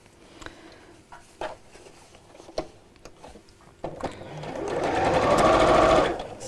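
A domestic sewing machine stitches a curved seam on fabric: a few faint taps and clicks, then a steady, fast mechanical whirr builds up close and loud for about two seconds before easing off.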